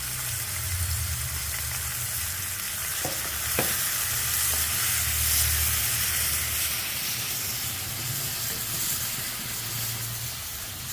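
Tomatoes and garam masala powder fry in a pan of oil with a constant close sizzle. Faint stirring sounds come through now and then, and nobody speaks.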